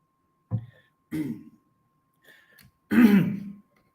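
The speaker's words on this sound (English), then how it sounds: "I'm having a coughing attack." A few separate throat clearings and a short cough, close and fairly loud, spaced out with silence between them.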